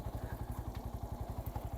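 An old, battered motorbike chugs along on a ride near Saifullah Lake, its engine giving a fast, steady, low thumping pulse, with rushing wind over the top and no talking.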